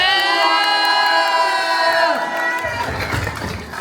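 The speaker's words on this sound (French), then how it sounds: "Applaudissez-vous déjà." A birthday party crowd cheers and whoops loudly while someone sings or holds a long sustained tone, then the noise breaks into rougher shouting and clapping near the end, with voices mixed throughout.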